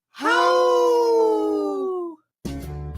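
A lone Minnesota wolf gives one long, clear, close howl that holds its pitch for about two seconds before fading, followed by unrelated radio sound.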